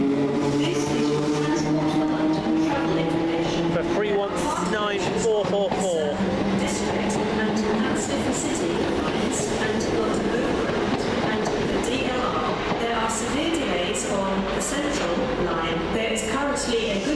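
A Thameslink Class 319 electric train pulls out of Farringdon station, its traction motors whining and rising in pitch as it accelerates over a steady rumble, with indistinct voices in the background.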